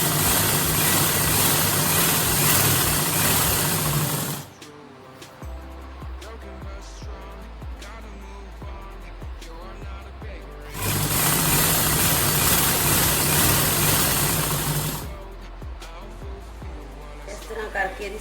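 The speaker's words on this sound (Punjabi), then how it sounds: "ਦੋਵਾਂ ਚੀਜ਼ਾਂ ਨੂੰ ਇੱਕੋ ਜਿਹਾ ਹੀ ਰੱਖ ਕੇ ਆਪਾਂ ਸਲਾਈ ਕਰਦੇ ਜਾਵਾਂਗੇ" Sewing machine stitching two pieces of fabric held evenly together, heard as two loud sustained bursts of steady motor whir with a quieter pause between them, no talk.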